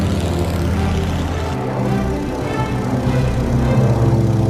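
A World War I two-seater biplane's propeller engine drones steadily in flight, a loud, close, continuous rumbling buzz with no voices.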